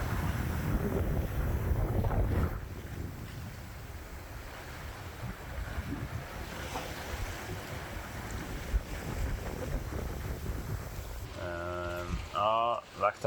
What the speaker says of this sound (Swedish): Vinden har ökat lite grann